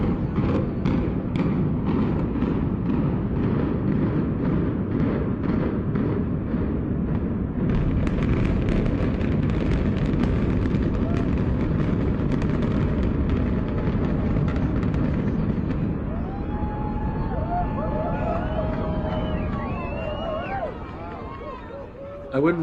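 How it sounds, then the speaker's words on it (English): Demolition implosion of a 23-story Miami hotel: a sustained, loud rumbling roar of collapse lasting many seconds, with crackling debris and crowd noise and voices rising in the background as it fades. "There's an exclusive 23-story Miami hotel vanishing in under 20-second explosion."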